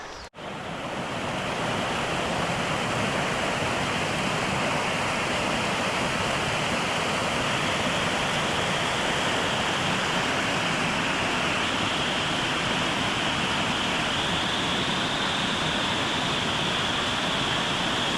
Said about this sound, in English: as you can hear it now, rain falling or water falling from the trees